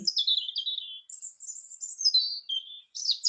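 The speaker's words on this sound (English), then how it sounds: "we'll play the robin" A robin sings a recorded phrase of high, thin, whistly warbles that rise and fall in quick runs, pausing briefly before a final bright burst, clear and alone.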